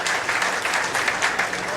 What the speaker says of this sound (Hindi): जोरदार तालियां बजाओ भैया, जोरदार ताली।